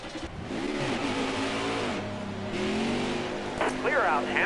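A race car engine revs and climbs through pitches during a Days of Thunder video game practice session, with a voice talking over the steady mid-range engine drone.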